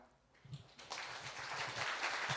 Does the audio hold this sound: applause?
yes